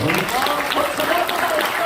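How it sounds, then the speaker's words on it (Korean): An audience at a city mayor's talk concert in Gwangju applauds in a dense, steady wash of clapping that fills the whole short stretch without pause. "여러분 박수 한 번 보내주세요"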